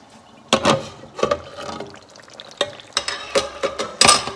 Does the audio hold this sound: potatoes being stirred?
yes